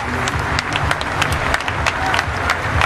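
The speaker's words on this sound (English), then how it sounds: "you can see from the applause" Cricket crowd applauding Jacques Kallis in his farewell Test for South Africa against India at Durban, a sustained wash of stadium clapping, distant and broad, with scattered sharper claps standing out.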